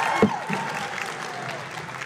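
A Comic Con panel audience in L.A. claps in a steady, moderate round of applause for the Helluva Boss panel, with a brief voice or cheer near the start, the clapping gradually easing off.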